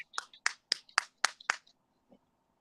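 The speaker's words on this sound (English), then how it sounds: "I have to be a teacher and clap at him." Hands clapping sharply at a dog: six crisp, loud claps in a fairly steady rhythm, close by, with a faint thump after them and otherwise quiet surroundings.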